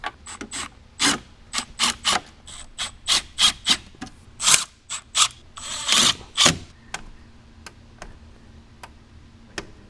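A ratchet tightens the bolts holding a 6.5-inch soundbar speaker pod on a 2021-or-later Ford Bronco Raptor, in short, close rhythmic bursts of clicking that pause between strokes, with a few single ticks at the end and no talking.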